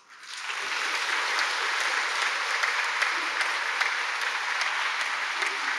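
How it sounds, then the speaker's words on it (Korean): Sustained applause from a church congregation at a Sunday service rises quickly and continues evenly, a dense wash of clapping filling the room without pause. "우리 열렬한 박수로 환영하시겠습니다"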